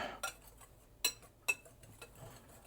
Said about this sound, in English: I'll get a whisk here and I'll just whisk all of that together